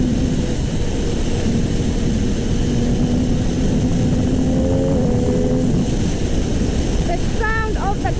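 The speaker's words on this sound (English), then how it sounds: "The sound of the quick shifter, so addicting that you want to do like bam, bam, bam, like down, down, then go up, up." An MV Agusta F3 800 motorcycle engine roars loud and steady under heavy wind rush, with a faint rising tone near the end; no distinct quick-shifter clicks stand out.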